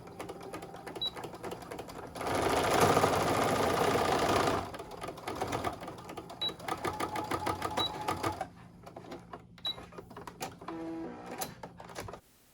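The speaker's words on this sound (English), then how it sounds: "we're just going to sew right back over that same line." A sewing machine runs a stitching pass over a fabric scrunchie seam, a loud steady mechanical whir in one sustained burst followed by lighter, choppier stitching bursts and small clicks, with no voices.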